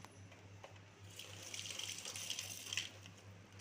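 Tap water runs steadily into a sink while jamun (Java plum) fruit is washed, a close, soft continuous splash that grows slightly fuller toward the end.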